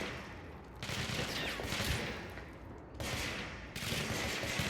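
Gunfire from a pistol-form weapon in the video game Control, sustained dense bursts of shots with loud, continuous combat noise across the whole stretch.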